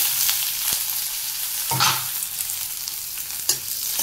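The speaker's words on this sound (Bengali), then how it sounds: "ফোড়নটা গরম হয়ে গেছে, এবারে পেঁয়াজ কুচি দিলাম" Chopped onion hits hot tempering oil in a pan, giving a steady, close broadband sizzle broken by a few sharp stirring scrapes and clinks.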